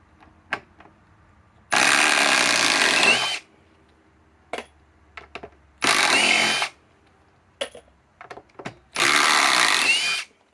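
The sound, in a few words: Metabo HPT WH18DC triple hammer impact driver running on 2Ah battery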